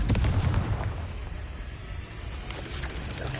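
A Confringo blasting curse in Hogwarts Legacy lets off a heavy, booming explosion that rumbles strongly at first and then fades into a lingering roar with later smaller pops.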